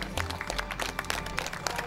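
An audience at an education congress applauds to welcome a speaker to the stage, a moderately quiet wash of dense, rapid clapping that continues steadily throughout.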